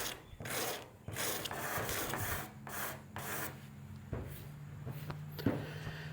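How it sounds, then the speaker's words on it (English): A tape-wrapped razor blade scrapes clear coat off the patina paint of a Chevy C10 truck, making repeated close, rasping strokes in an uneven rhythm. "put tape around the razor blade, and I'm scraping this top off"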